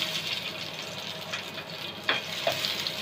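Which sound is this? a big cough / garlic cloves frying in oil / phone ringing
garlic cloves frying in oil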